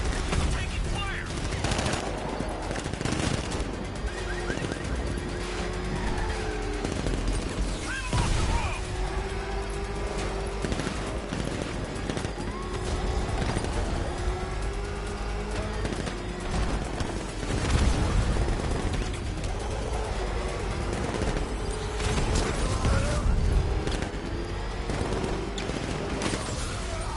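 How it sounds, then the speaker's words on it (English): Heavy gunfire in Batman: Arkham Knight rattles almost without a break, with bursts and impacts layered into a constant loud battle din while voices shout over it. "I'm taking fire!"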